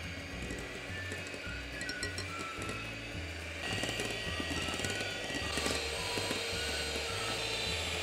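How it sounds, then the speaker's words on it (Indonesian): An electric mixer beats cake batter with Sprite or soda water in a bowl, giving a steady close whirring drone with rhythmic low pulsing and faint clinks. "Sekarang kita mixer sampai mengembang, sampai kental dan berjejak."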